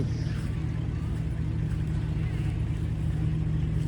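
A steady low engine drone with a strong hum, like a motorboat running nearby, over constant water and wind noise.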